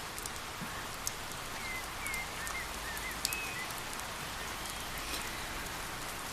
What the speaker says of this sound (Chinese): 下雨了，咱们回昭辉院避一避吧